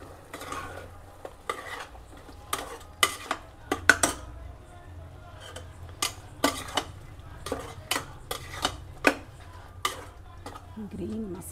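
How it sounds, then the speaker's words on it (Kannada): Green masala fried and stirred in a pot for chicken gravy, with repeated sharp clinks of a ladle against the pot in irregular rhythm over a low steady background hum. "ಈ ಮಸಾಲೆನ ಸ್ವಲ್ಪ ಒಂದ್ಸಲ ಫ್ರೈ ಮಾಡ್ಕೋಬೇಕು."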